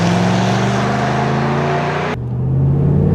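A 2013 Ram 1500 pickup accelerates hard from a stop in a 0-60 mph run, engine roaring steadily loud inside the cab, with a brief shift dip in the middle before the drone picks up again.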